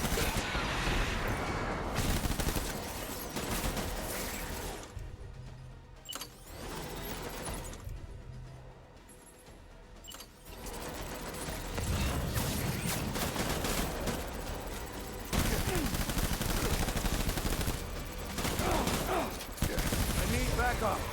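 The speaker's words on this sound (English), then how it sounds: "Open fire." Sustained heavy gunfire in the video game Death Stranding, dense automatic bursts and shots, loud and near, easing briefly midway before resuming with crashes and booms.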